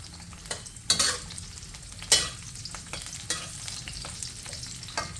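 Indian trumpet tree pods frying in oil in a pan, a steady close sizzle broken by a few sharp stirring scrapes, with no voices.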